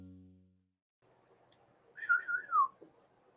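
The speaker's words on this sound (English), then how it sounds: "Whistling in the back" A melodic whistled tune of a few rising and falling notes, clear and fairly close, following a brief low hum and a quiet pause.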